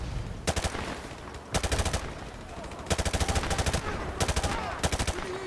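Bursts of automatic gunfire in Call of Duty 4 Remastered, several rapid volleys separated by short gaps, loud and close, with no talking over them.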